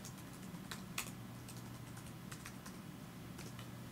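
Computer keyboard typing during Minecraft Bukkit server setup on a Mac, a steady run of light, quick key clicks close to the mic with a few sharper taps and a low hum beneath.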